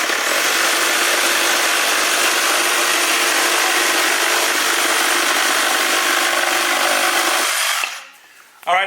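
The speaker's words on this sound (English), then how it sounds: "Metabo HPT Multivolt 7 1/4 cordless circular saw, and Jeff's going to run a couple cuts here" A Metabo HPT MultiVolt 36V 7 1/4 inch cordless circular saw cuts through wood in one loud, continuous, broadband roar lasting about eight seconds, then winds down abruptly.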